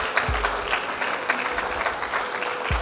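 Steady crowd applause at a debate championship awards ceremony, many hands clapping continuously at a moderate distance, with no one speaking.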